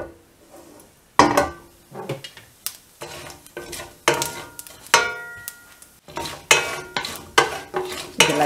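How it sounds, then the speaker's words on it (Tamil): Mustard seeds and urad dal crackle in hot oil in a pan for drumstick-leaf poriyal, with a series of loud close stirring scrapes and clanks over the sizzle and no talking. "இப்போ எண்ணெய் காஞ்ச உடனே இதில் கடுகு உளுந்து ஆட் பண்ணிடலாம்."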